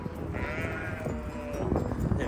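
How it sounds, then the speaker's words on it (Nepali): Sheep bleat in a drawn-out, wavering call on a countryside path near Brougham Castle, heard close by over a steady outdoor background with no talk. "ए भेडा हुन त यो त"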